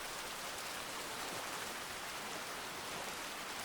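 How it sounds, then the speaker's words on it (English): Steady, dense rainfall from the video game Aoi Shiro hisses evenly throughout, a continuous wash of drops with no pauses or voices. "The sound of the waves and the sound of the falling rain mixed together."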